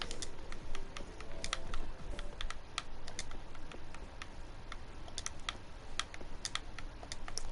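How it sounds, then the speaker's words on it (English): Aggressive typing on a computer keyboard: rapid, uneven clacking keystrokes, close and crisp, running continuously for several seconds alone over a faint background hum. "you can hear me aggressively typing, can't you?"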